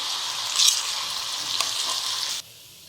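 Boiled potatoes with dabeli masala, salt and tamarind frying in oil in a kadhai, a steady close sizzle with a brief louder burst of stirring, cutting off abruptly near the end.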